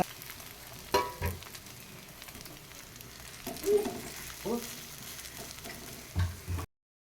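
Bread pizza fries in sunflower oil on a dosa pan, a soft steady sizzle with occasional scraping and spatula knocks as it is turned over, close and fairly quiet.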